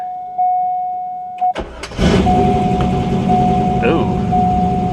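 A manual Corvette bought cheap at auction with hidden modifications starts for the first time: brief cranking bursts, then the engine catches and settles into a loud, steady run, close by.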